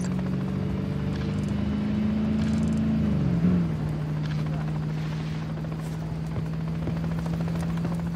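A helicopter in the Call of Duty Modern Warfare 3 campaign gives a steady, loud rotor drone throughout, with its pitch dipping slightly midway as it banks, under battle ambience.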